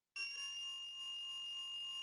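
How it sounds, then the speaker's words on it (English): An electronic buzzer powered straight from a battery and triggered by a white push button gives a steady, piercing high-pitched tone that starts abruptly and holds constant without a break. "connected the 2 ends of the battery to the buzzer, and it buzzed"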